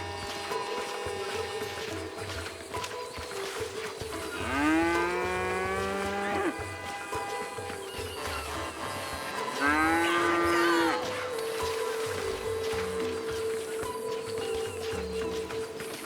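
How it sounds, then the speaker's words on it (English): Two loud, drawn-out cow moos with rising and falling harmonics, a few seconds apart, from a cow wandering on a beach in the video game GTA 5, over a steady low game ambience. "I don't think I've ever seen a cow frolicking on a beach."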